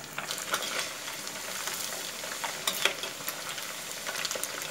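Thinly sliced pork fries in hot oil over moderate heat, giving a steady, close sizzle with faint crackles and occasional utensil clicks.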